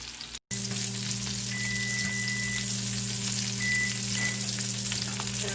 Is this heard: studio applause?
no